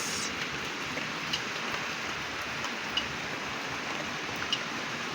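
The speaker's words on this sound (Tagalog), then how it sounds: "So buti ngayon parang humina po yung ulan, pero kanina medyo malakas po yun mga kapiks." Rain from Typhoon Opong falls steadily, a dense even hiss with a few sharper drip taps scattered through it and no voices.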